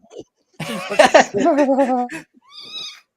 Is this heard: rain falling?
no